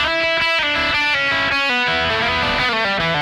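Distorted electric guitar riff runs through a Kemper Profiler with the cabinet high cut switched off, loud, bright and fizzy, with steady palm-muted chugs and chord stabs and no talking.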